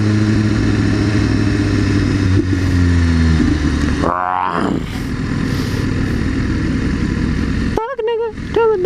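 A 1000 RR sport motorcycle accelerates past on a city street, its engine rising in pitch through quick gear changes, loud and close at first then fading, with other traffic noise around.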